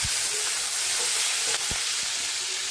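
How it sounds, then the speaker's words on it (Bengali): Food fries slowly in a pan with a steady, bright hiss and sizzle, close and even, broken by a few soft clicks and knocks in an otherwise quiet kitchen. "এদিকে ভাজাটা হোক কতক্ষণে, আস্তে আস্তে"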